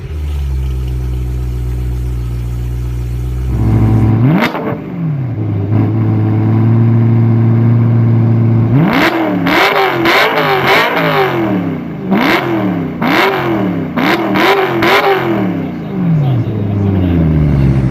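A BMW M3 with a modified exhaust fitted with a 2.5 OEM mod idles low, then barks through a series of sharp revs, several quick blips close up and loud, with a rising pitch on each throttle stab.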